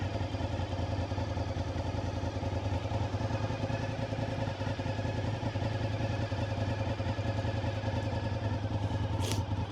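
2002 Honda VTR SP2 V-twin superbike fitted with non-original silencers, running at a steady idle close by, a deep continuous throb with an even mechanical clatter and a faint short chirp near the end.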